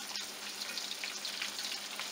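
Catfish fries steadily in hot grease, a dense continuous sizzle with scattered sharp pops and crackles close by, no voices over it.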